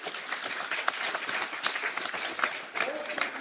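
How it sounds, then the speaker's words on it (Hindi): Audience at a Christian retreat in Ambikapur breaks into a steady burst of hand-clapping, dense and continuous for several seconds, with voices mixed into the applause. "ताली हो जाए जोरदार"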